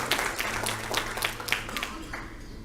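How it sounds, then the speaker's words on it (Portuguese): A crowd applauding, dense steady clapping that fades slightly toward the end. "Vamos aplaudir o Santo Evangelho de nosso Senhor Jesus Cristo com alegria e com gratidão"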